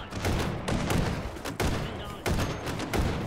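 An automated turret fires steady, dense volleys in the VR shooter Hot Dogs, Horseshoes & Hand Grenades, in its Meat Fortress engineer mode. The shots are loud and close, with brief dips between bursts.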